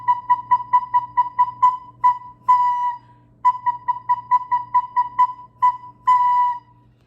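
Recorder playing a single repeated note with tonguing, crisp separate articulations in quick runs broken by a few longer held notes and a short pause, close and clear over a faint low hum.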